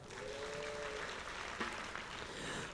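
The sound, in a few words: congregation applauding the worship team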